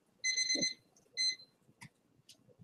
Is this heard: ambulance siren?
no